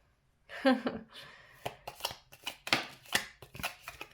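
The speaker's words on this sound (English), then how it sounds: "this is just shitty shuffling at this point" Tarot cards shuffled by hand during a pick-a-card reading, giving a run of crisp, uneven flicks and riffles close by, with a brief murmur near the start.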